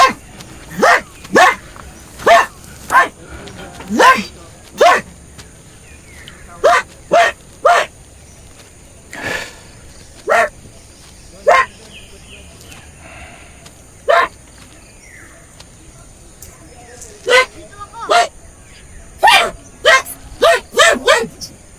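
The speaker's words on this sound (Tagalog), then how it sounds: "Call na call yung mga aso." Dogs barking repeatedly at a hillside cabin campsite in Tanay, sharp loud barks in irregular clusters with short gaps, some yips mixed in.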